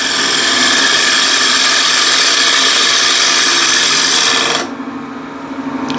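A wood lathe spins at 1200 RPM while a 12mm spindle gouge cuts into a turning piece, giving a loud, close, continuous rasping hiss that cuts off abruptly near the end, leaving a faint hum.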